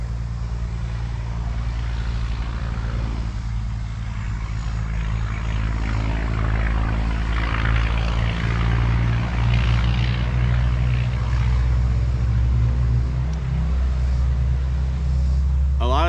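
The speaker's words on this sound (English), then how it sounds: "There were just 3 truck trailer situations that just went by, and that first one was what you heard." Truck trailers pass along a rural Kentucky road near farmland, a steady low rumbling drone of heavy engines and tires that holds loud and close throughout, with a faint voice briefly at the end.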